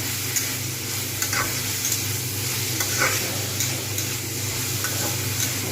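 Cabbage leaves stirred with ginger-garlic paste in a frying pan, giving a steady, close sizzle with soft scraping strokes that run throughout and no voices.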